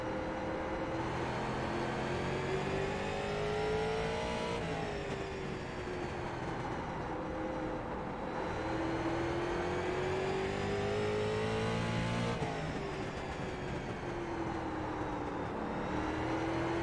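Street stock race cars lap Nashville Fairgrounds Speedway in the iRacing simulator, a steady, loud engine drone rising and falling in pitch as the cars accelerate and lift through each corner, with no talk.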